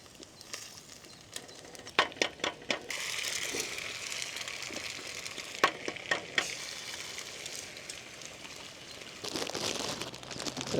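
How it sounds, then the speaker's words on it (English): Bacon frying in a pan during a campervan camp-cooking session, heard as a constant close crackling sizzle with sharper pops and stirring scrapes scattered through it. "I think the bacon is basically done"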